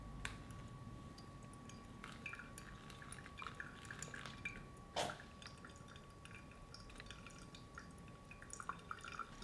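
Pour-over coffee draining through the filter during drawdown, heard as faint, sparse drips and small trickles over a quiet steady background hum, with one brief louder clink midway.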